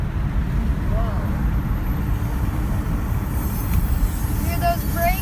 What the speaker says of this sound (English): Hear those brakes? The brakes of a freight locomotive.